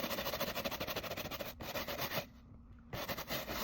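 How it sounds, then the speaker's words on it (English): Shoe brush scrubbing a preowned shoe in quick, steady back-and-forth strokes, loud and close, with a brief pause in the middle before the scrubbing resumes. "I'm gonna use my shoe brush."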